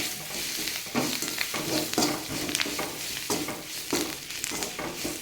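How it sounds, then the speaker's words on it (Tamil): Curry leaves stirred in hot oil in a pan, a dense crackling sizzle throughout with repeated scraping stirs at an even rhythm, close and loud. "இந்த எண்ணெயிலேயே போட்டு நல்லா கிளறி விடணும்"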